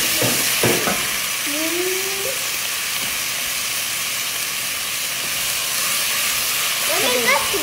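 Chopped onion sizzles loudly as it goes into a hot pan, a steady broad hiss of frying that carries through the whole stretch, with brief clatter and a voice speaking at the start.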